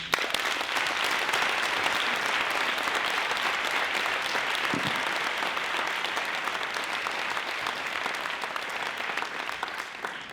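Sustained applause from a seated audience at a business case competition finals, a dense steady clapping that runs for about ten seconds with no break and no talk on top.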